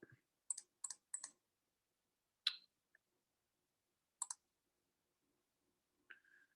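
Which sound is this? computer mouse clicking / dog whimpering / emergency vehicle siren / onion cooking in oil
computer mouse clicking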